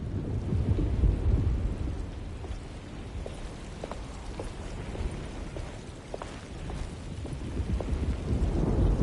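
A thunderstorm in the video game Alone in the Dark: continuous heavy rain with low, rolling thunder rumbling throughout, loud and enveloping, with no talking.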